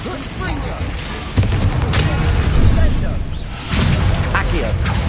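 Confringo blasting spell explosions in Hogwarts Legacy: loud booming blasts hit twice amid a dense wash of combat noise and rumble, close and heavy.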